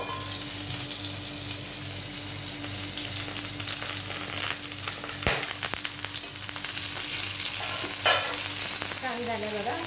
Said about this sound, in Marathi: ह्याला झाकण लावून 5 मिनिटासाठी आपण त्याला एका बाजूला साईडने आपण शेकवून घेऊया.